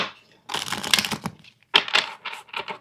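Bursts of riffling, crisp papery shuffling of tarot cards close up, two main flurries separated by a brief pause, no voices.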